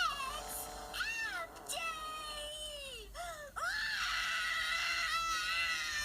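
Cartoon children from Rugrats scream in shrill, wavering wails and high cries that rise and fall across several seconds, loud and close, with a brief dip midway before the shrieking swells again.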